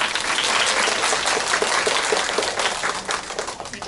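Steady, dense applause from a lecture audience fills the whole stretch, loud and even with no voices rising above it.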